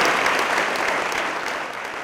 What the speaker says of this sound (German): Der Applaus ist berechtigt.